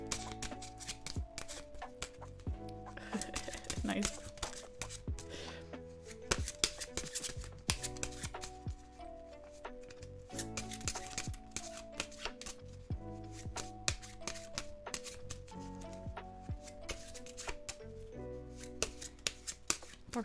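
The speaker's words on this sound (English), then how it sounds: "Can you guys hear the shuffling of the cards?" A deck of playing cards is shuffled over and over in close, crisp riffling bursts and snaps, with soft background music underneath and one brief spoken word.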